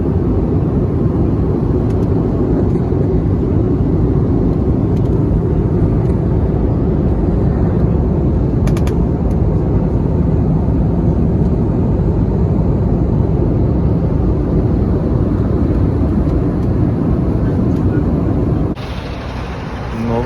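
Inside an airplane cabin in flight, a constant loud, deep roar of engine and air noise holds steady, then dips briefly near the end.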